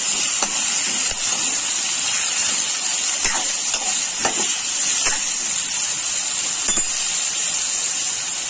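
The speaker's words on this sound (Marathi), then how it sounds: "असे सर्व बटाटे आपण फोडणीला टाकलेले आहेत, आपण पाहू शकता" Potatoes frying in a spiced oil tempering for a fenugreek-potato dish give a steady, close hiss with scattered sharp crackles and pops.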